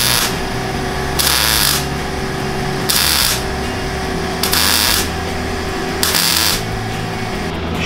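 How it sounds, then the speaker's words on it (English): Short bursts of MIG tack welding on a sheet metal panel for a go kart front, several crackling buzzes of about half a second each, evenly spaced and loud over a steady hum. "So now I'm going to do some little beads all the way around this thing, tacking it in."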